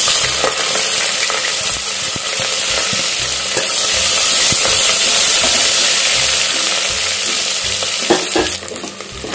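Thinly sliced onions hit hot oil with cloves and other whole spices, frying for a biryani in a loud, close, continuous sizzle with stirring scrapes throughout and no voices.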